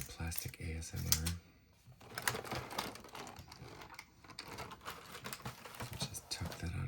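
Crinkly plastic packaging from a Diamine ink advent calendar is handled up close, giving soft clicks and rustles with quiet talk around them.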